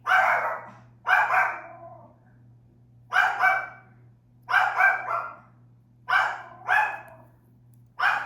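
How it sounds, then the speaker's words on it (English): A dog barks in repeated pairs of sharp, fairly close barks, separated by short pauses, over a faint steady hum. "sorry if you can hear my dog barking."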